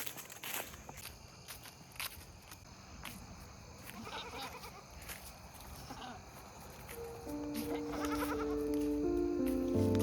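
Goats bleat in several short calls over rustling and footsteps, growing louder and more continuous toward the end, with a sustained tonal cry close by in the final seconds.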